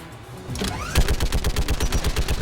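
Rapid turret gunfire in the Mass Effect 3 video game, a steady rhythmic burst of loud, evenly spaced shots starting about a second in and continuing to the end.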